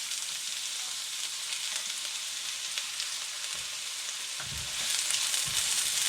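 Garlic and onion sautéing together in a little oil, a faint steady sizzle throughout with a few soft stirring knocks toward the end, no talk.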